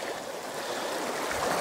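Stream water breaks and rushes over rocks close by, a steady bright hiss and burble that carries on alone.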